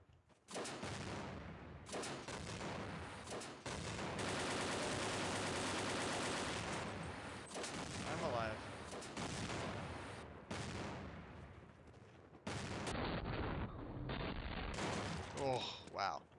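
Heavy gunfire in the video game Half-Life: Echoes, sustained automatic bursts and booming shots that run almost continuously, loud and close, with a few short gaps.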